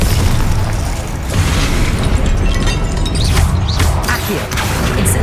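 A Confringo blasting spell in Hogwarts Legacy, cast during the Percival Rackham trial, sets off loud, booming explosions that rumble continuously, with crackling bursts layered on top throughout.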